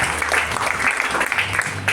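A church congregation claps during a monthly revival fellowship, a dense, steady patter of applause filling the room for two seconds, with a low hum of voices or music underneath.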